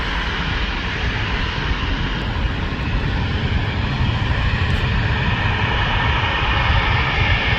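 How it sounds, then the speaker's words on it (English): Air Transat airliner passing overhead at Manchester Airport, a loud, steady broadband jet engine roar that holds constant and swells slightly toward the end, with no voices. "Air Transat, the only North American carrier we currently get at Manchester Airport, on its way back to Canada."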